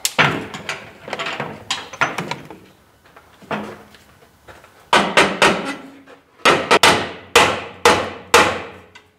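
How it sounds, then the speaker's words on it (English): Repeated hard hammer blows strike a stuck metal part on a 1985 Chevrolet C30 truck in uneven bursts, some single and some in quick runs, loud and close with short pauses between. "And then whoop on it with a hammer."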